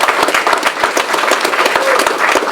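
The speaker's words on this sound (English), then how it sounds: "So give yourselves a round of applause." Kennedy Health Alliance staff applaud at a company event, steady, close, lively clapping from a modest crowd with distinct individual hand strikes, lasting the whole stretch.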